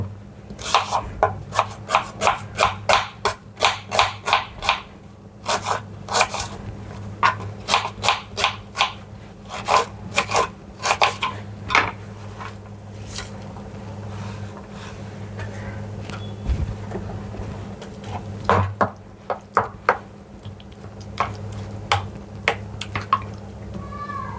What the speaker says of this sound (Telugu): చిన్న ఎరగడ్డ సన్న సన్న ముక్కలుగా దరి వేసుకొని వేసుకుందాం